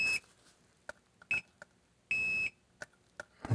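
A multimeter in continuity mode gives short high-pitched electronic beeps, a few brief chirps and one longer tone, close and clear among faint clicks and handling, with no talking.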